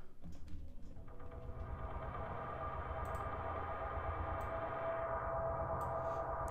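Drone atmosphere built from an acoustic guitar sample in Ableton: a sustained, swelling tonal bed with steady low hum and shimmering upper layers, continuous and fairly loud throughout with faint ticking accents and no voices.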